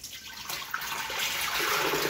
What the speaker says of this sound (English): And then I'm going to pour my milk in there.